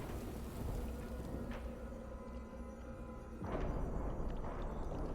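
Steady rain hisses in Divinity: Original Sin, a constant wash of falling water that swells a little louder toward the end, with no voices.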